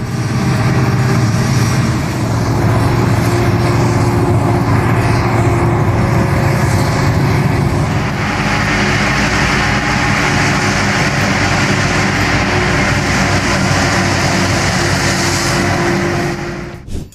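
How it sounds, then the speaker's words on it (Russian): A John Deere 6900 tractor and a Krone BX 700 forage harvester working in the field, a steady loud engine drone with broadband machine roar throughout, shifting slightly in tone midway. "Насладимся работой трактора John Deere 6900 и кормоуборочного комбайна Krone BX 700."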